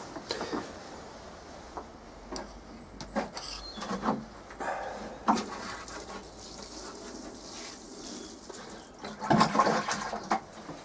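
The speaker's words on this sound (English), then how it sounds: "I like to water it first." Water poured from a watering can over compost in a seed tray, ready for sowing dwarf French marigolds; a soft, steady trickling and splashing runs close by for several seconds, with a louder gush toward the end.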